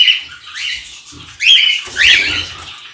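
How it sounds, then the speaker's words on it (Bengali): Cockatiels and Java sparrows in an aviary squawk and chirp close up, with several loud, shrill calls in quick bursts and short pauses between them. "এইখানে আছে ককটেলের, দেখো দারুণ মার্কিংয়ের পাখি আছে, কিছু জাভা পাখি"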